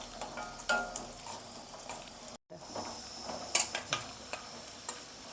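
Food frying in a pan until golden brown gives a steady, close sizzle, with light stirring clicks and one brief pause partway through.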